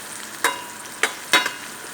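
Tamarind fries in oil for a coriander chutney, with a soft, steady sizzle punctuated by three brief scraping stirs in the pan.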